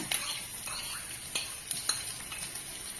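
Mustard seeds, onion and curry leaves sizzle in hot coconut oil, a steady bright hiss broken by a few soft stirring taps from a utensil in the pan. No one speaks.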